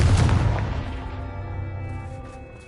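A Confringo blasting spell fires in Hogwarts Legacy, a loud booming burst up front that decays over a couple of seconds into a lingering ringing tail.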